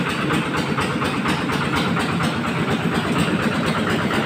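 A tractor engine chugs at idle in a rapid, even rhythmic knock, loud and close, with no voices over it.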